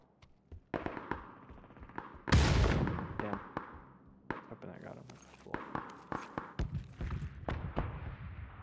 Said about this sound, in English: Random grenade.